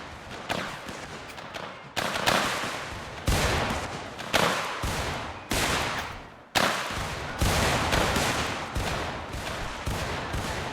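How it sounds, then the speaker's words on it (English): Musket volleys from ranks of American Civil War infantry in Mount & Blade Warband, about eight loud, sharp crackling discharges at irregular intervals, each fading into a brief decaying rumble. "I don't know why they kept firing like that."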